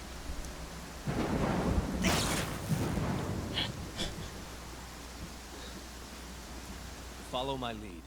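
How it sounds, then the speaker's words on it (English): Thunder from a lightning strike in the video game Pathfinder: Kingmaker, a loud rumbling crack over rain-like noise that swells then fades, with a brief tonal game sound near the end. "I love randomly getting struck by lightning."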